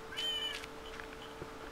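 A Minecraft cat gives a short meow near the start, followed by faint soft game sounds, with no talking.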